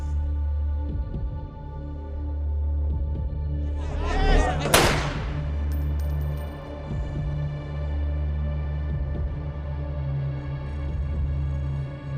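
A single gunshot during a police encounter: one sharp, loud crack partway through over a steady low hum, with voices talking before and after.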